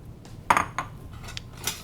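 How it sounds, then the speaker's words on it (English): A ceramic soup bowl and a metal ladle are picked up in a kitchen, giving a few light clinks and knocks spread across a couple of seconds, close by and with no talking. "Let me grab my bowl"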